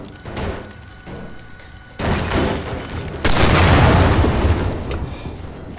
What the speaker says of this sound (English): That's gonna cause huge explosions.